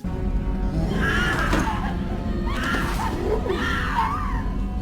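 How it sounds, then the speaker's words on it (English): A female character's ragdoll screams in terror in the Mass Effect 2 video game, with three drawn-out cries rising over dense, continuous game noise. "You can even hear her terrified screams as the ragdoll flies down the hall"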